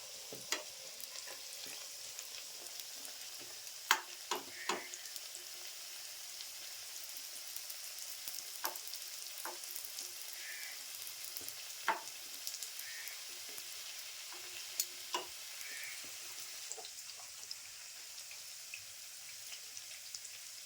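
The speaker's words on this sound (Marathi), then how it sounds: "पण फुगले ते आपण परतून घेऊया." Malpua frying in hot oil and being turned, a steady quiet sizzle with scattered light clicks and taps of a utensil against the pan across the whole stretch.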